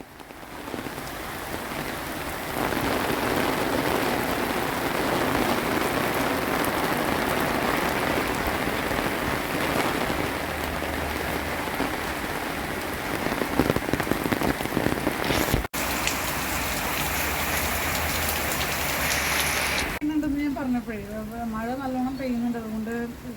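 Steady rain pours down over a scenic rural village, a continuous dense hiss filling the whole stretch, with a brief break near the end where a voice talks over quieter rainfall.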